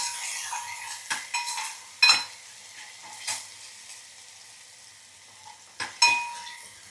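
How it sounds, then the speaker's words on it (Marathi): Cumin, chili paste and curry leaves roasting in hot oil for a fasting-day meal, a steady soft sizzle broken by a few sharp spatula-on-pan clinks and louder bursts of crackle. "तेल गरम झालेलं आहे त्याच्यामध्ये हे जिरे आणि मिरचीची पेस्ट घालूया कढीपत्ता हे थोडंसं भाजून घेऊया"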